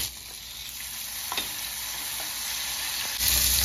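Chopped tomato hits a pan of fried garlic and ginger, a close, steady sizzle with stirring scrapes and a few sharp clicks, swelling louder near the end.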